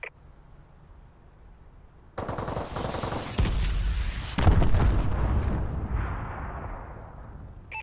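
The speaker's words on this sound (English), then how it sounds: "Enemy missile strikes!" Enemy missile strikes hit in the Call of Duty: Advanced Warfare video game. After a quiet stretch, a series of loud blasts land in quick succession, each followed by a rumbling, crackling tail that slowly fades.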